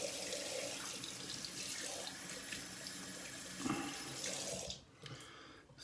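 Tap water runs steadily into a sink as an old 1850s Wade & Butcher wedge straight razor is washed beneath it, a close continuous splashing stream with a brief lull near the end.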